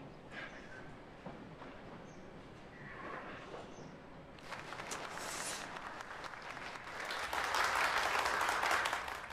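An audience claps at a school parents' meeting. A few seconds of quieter room noise come first, then applause swells into a dense, steady patter that grows louder toward the end.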